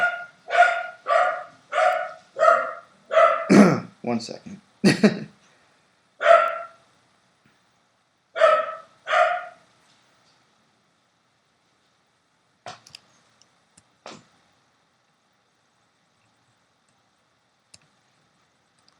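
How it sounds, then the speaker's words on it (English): Several dogs bark in a quick run of sharp, loud woofs, about a dozen in the first nine seconds, then fall quiet apart from a few faint clicks. "this is my dogs in the background."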